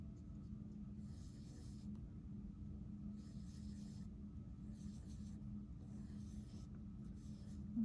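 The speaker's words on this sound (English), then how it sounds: "I'm just drawing a star right here." Pen or pencil drawing a star on paper, giving faint, repeated scratchy strokes in short bursts over a steady low background hum.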